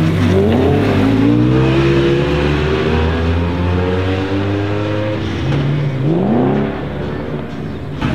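A 1,000-horsepower Honda Civic race car accelerates hard, its engine note climbing through several rising gear pulls, loud and close, then revving up again after a brief dip.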